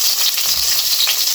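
Onion and pepper fried and stirred in a pan for pork sinigang, a loud continuous close sizzle with faint shifting scrapes as the mix is turned, and no talking.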